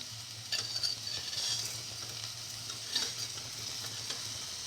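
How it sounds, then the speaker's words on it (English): Vermicelli pasta frying and being stirred in a pan, a steady close sizzle with scraping stir strokes and a low hum beneath, no talking. "Now put in the vermicelli pasta."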